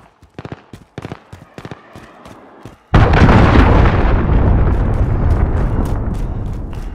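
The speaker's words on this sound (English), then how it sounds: "Enemy cruise missile!" An enemy cruise missile explodes in a Call of Duty match, a sudden loud close blast that booms into a long rumbling roar, following a stretch of sharp, rapid gunfire bursts.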